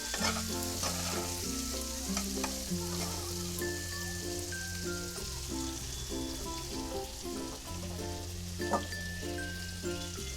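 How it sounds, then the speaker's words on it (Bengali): A pan sizzles and crackles continuously while onions fry, with faint stirring sounds under a backing of melodic music. "পেঁয়াজটা আমি বেশি ভাজবো না, অল্পই ভাজবো"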